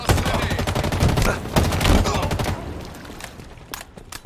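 Gunfire in a Halo Infinite team slayer match, loud rapid bursts of automatic fire and heavy shots for about two and a half seconds, then sparser fainter shots fading out.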